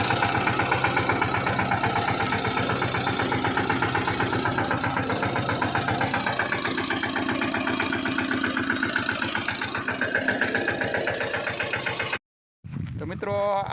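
A tractor engine runs loud and close in a pigeon pea field during pesticide spraying, with a steady rhythmic chugging that cuts out abruptly near the end before briefly resuming.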